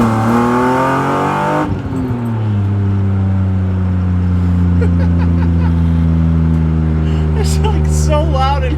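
A BMW E36 M3 on cold tires accelerates hard from inside the cabin, its engine note loud and climbing through the gears, with people talking over it.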